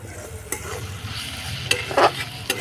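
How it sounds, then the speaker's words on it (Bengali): Onion, tomato and green chili fry in a pan with a continuous close sizzle, broken by a few scraping strokes of a stirring spoon, and no voices. "পেঁয়াজ টমেটোটা ভালো করে ভেজে নিতে হবে কাঁচা লঙ্কাটা দিয়ে দেবো এবার"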